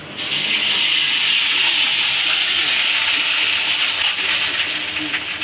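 Ginger paste sizzling loudly in hot oil for a Bengali fish curry, a dense steady hiss of frying that holds throughout without a break.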